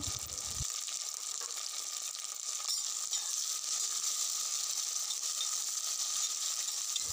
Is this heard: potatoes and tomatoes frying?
yes